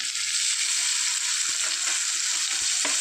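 Onion, garlic and green chillies sauté in a hot pan, giving a steady bright sizzling hiss with a few soft knocks of a spoon, close and constant throughout.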